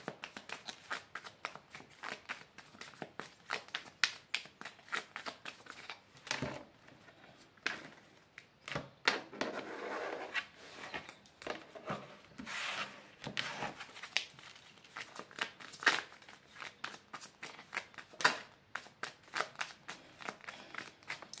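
Illuminati tarot cards being shuffled by hand, a long run of close, crisp riffling and flicking bursts with brief pauses between rounds, loud and continuous for about twenty seconds.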